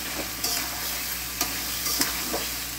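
Tomato and green chilli sizzling in a pan with a fish head, a dense continuous hiss broken by a few sharp stirring clicks, close up with no talk.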